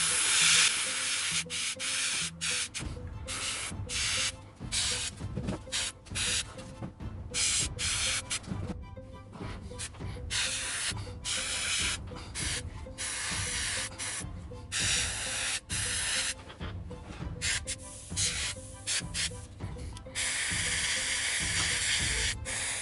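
An airbrush sprays paint onto a Kingdom Death Dragon King miniature, a continuous close airy hiss that wavers in short pulses and stops as the trigger is eased, with no talking.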